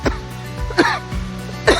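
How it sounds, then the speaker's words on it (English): A cyclist touring hill roads near Shimla, India, coughs in three sharp, close bursts spaced across a couple of seconds, with low road or wind rumble underneath. "I'm sorry, still coughing."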